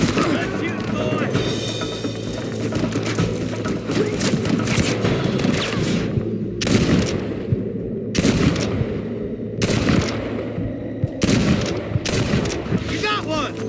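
Gunfire rattles through a Red Dead Redemption shootout, with dense volleys of shots and sharp bursts repeating over a noisy game mix. Voices shout and talk throughout.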